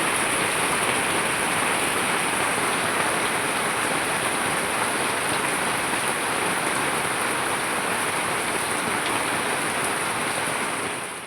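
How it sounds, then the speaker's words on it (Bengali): Heavy rain pouring down in a steady, dense hiss that stays loud and unbroken for the whole stretch, with no voices. "বৃষ্টি দেখো জোর এসে গেছে"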